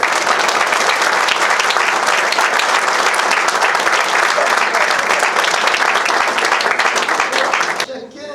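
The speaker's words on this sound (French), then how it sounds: "Acclamons le Seigneur." A church congregation claps loudly and continuously in acclamation, a thick wash of many hands that holds steady before cutting off abruptly near the end.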